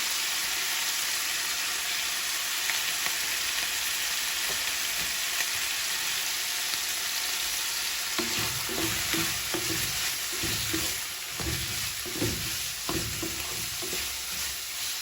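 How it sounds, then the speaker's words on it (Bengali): Chicken pieces fry in a pan with chopped green chilies and onion, a continuous close sizzle and hiss, with rhythmic spatula stirring and scraping strokes becoming prominent in the latter half. "মাংসটা আমি তিন চার মিনিট একটু ভাজা ভাজা করে নেব"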